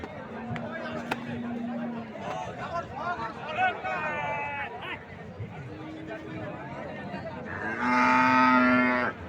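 Dairy cows that have stopped giving milk low and moo on a farm, several drawn-out calls spread across the stretch with a loud, close bellow near the end, over a low babble of people talking.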